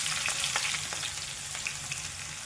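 Onion sizzling in hot oil with mustard seeds and cumin, a steady close frying hiss with light crackles and stirring scrapes throughout, no voices.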